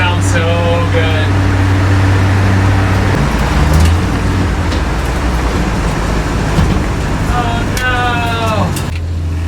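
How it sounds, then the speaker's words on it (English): Studebaker car fitted with a new turbo, its engine droning steadily at a low, even pitch through the whole stretch, with road and air noise around it and brief whining bursts near the start and end. "The sound of the new turbo."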